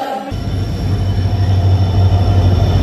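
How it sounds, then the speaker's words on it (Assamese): A train arrives at a station platform with a loud steady rumble of wheels and carriages and a low engine drone, close and continuous, with no one talking. "আমাৰ এতিয়া ট্ৰেইন আহি গ'ল, যাবলৈ ৰেডি।"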